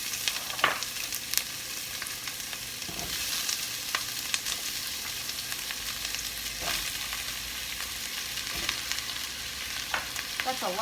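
Vegetables fry in a teaspoon of grapeseed oil in a deep pan for a vegan coconut curry, a steady close sizzle with scattered crackles and stirring clatter.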